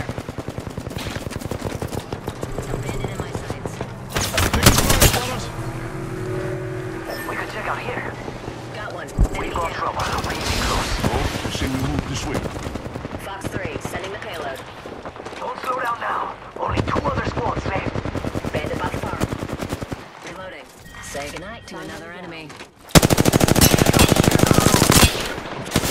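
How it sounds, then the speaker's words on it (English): Rapid gunfire from a video game, with dense bursts of automatic shots and heavy blasts recurring across the clip, loud and layered with game effects and some voices. "Opening fire."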